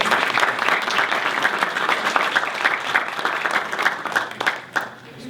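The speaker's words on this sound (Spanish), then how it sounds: "Un aplauso para él." Audience applause fills a university debate tournament hall at a Chilean technical university, steady dense clapping throughout that thins slightly toward the end, with faint voices mixed in.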